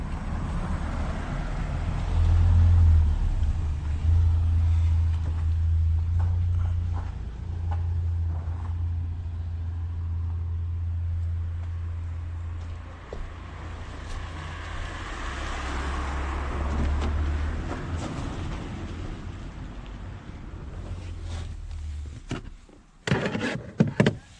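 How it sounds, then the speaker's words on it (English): A Renault Clio 3 engine running after its MAP sensor was cleaned, a steady low idle hum heard close, with a door-like clunk and knocks near the end. "Let's see how the car runs now."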